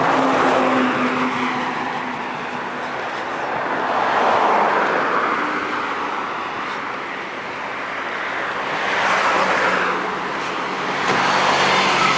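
A car engine hums steadily nearby with rising and falling swells as the vehicle creeps and repositions closer to another car at a roadside traffic police stop, amid broad outdoor road noise.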